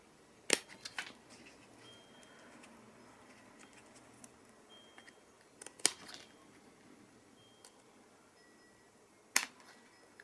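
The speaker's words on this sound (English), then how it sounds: "So these struts that are left over, you can snip off." Scissors snip leftover struts from a handmade basket in three or four sharp, quiet cuts spread apart, with soft rustling between them and no talk.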